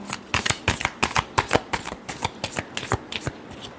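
Tarot cards are shuffled by hand in quick, crisp riffling bursts, a rapid irregular series of papery flicks close to the listener, with no talking.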